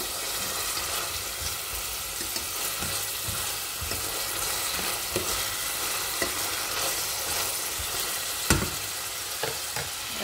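Spices hit hot oil in a small pot, crackling in a steady, close sizzle with scattered sharp pops and clicks throughout, with no voices.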